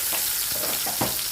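Onion and garlic hit hot oil beside fried fish for a moringa flower dish, giving a loud, continuous sizzle with a few soft stirring scrapes over the brief moment.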